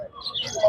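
Exotic pet birds, including a pair with white faces, chirp in short bright tweets at a crowded Serampore pet market, brief and close.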